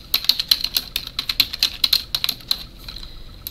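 Fingers typing a password on a computer keyboard, a quick irregular run of light close key clicks that slows and trails off near the end.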